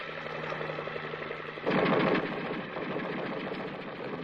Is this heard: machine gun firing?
yes